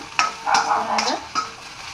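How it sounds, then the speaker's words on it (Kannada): Okra fries in a pan for a North Karnataka style palya, with sizzling and a few distinct scraping stir strokes close by. "ನೀಟಾಗಿ ಕೆಂಪಾಗಿ ಹುರಿಬೇಕು ಬೆಂಡೆಕಾಯಿನ"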